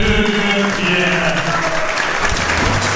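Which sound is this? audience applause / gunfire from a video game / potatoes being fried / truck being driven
audience applause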